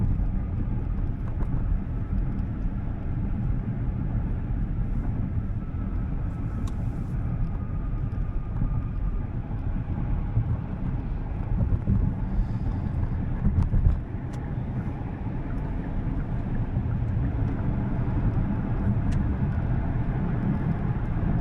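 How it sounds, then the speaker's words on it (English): Kia EV6 GT electric car gently accelerating to 80 mph on a highway, a steady low road and wind rumble filling the cabin throughout with no distinct motor whine. "a nice gentle acceleration up to 80 miles an hour"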